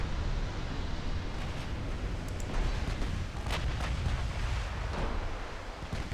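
Naval gunfire from warships in Ultimate Admiral Dreadnoughts, a 10-inch shell hitting a cruiser: a continuous rumbling roar of distant booming shots and impacts, with a few sharper cracks rising out of the dense wash.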